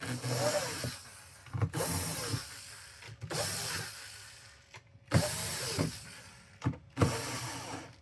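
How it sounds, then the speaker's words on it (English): An electric screw gun drives screws back into an Xbox Series X console, several separate whirring bursts of a small motor, each a second or so long, with quiet pauses between them, fairly close. "I'm using my other screw gun here"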